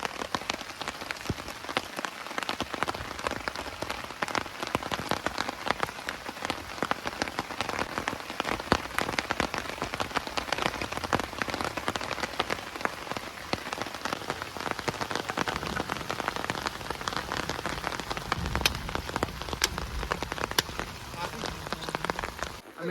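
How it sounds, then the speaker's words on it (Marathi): Heavy rain pours steadily on a Konkan village, a dense, continuous hiss of drops drumming on surfaces close by, holding loud and even throughout with no voices over it. "जाता जाता घरी एवढा मोठा पाऊस लागलाय आणि छत्र्या पण नाहीत."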